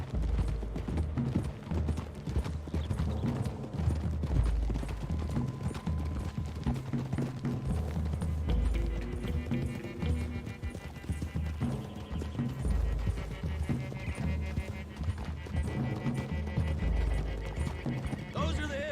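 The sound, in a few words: horses' hooves clip-clopping, Red Dead Redemption 2 video game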